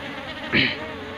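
Honey bees buzz around a newly built hive eight days after it was set up, giving a close, continuous insect drone with one louder swell as a bee passes near.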